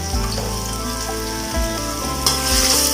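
Tofu and shallots frying in hot oil in a pan for seafood pad thai, a steady close sizzle with faint music-like tonal background running throughout, no talking.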